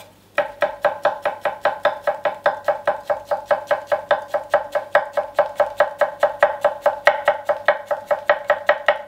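A knife chopping garlic finely on a cutting board, crisp rapid taps in an even, rhythmic run of roughly four to five strikes per second, close up and clear.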